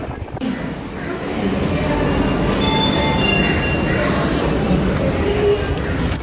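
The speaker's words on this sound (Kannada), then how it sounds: "ಟ್ರೈನ್ ಡಿಪಾರ್ಚರ್ ಆಗಿದೆ" A Shivamogga Town Intercity Express passenger train departs the station, rumbling along with steady low mechanical noise and faint wheel squeals, with a voice speaking over it throughout.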